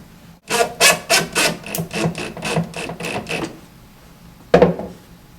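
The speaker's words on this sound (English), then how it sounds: "we're going to put a screw in that side as well" A screw driven into the side of a wooden base cabinet makes a run of about ten loud, rhythmic rasping bursts, then a pause and one final grinding burst, close up with no talk.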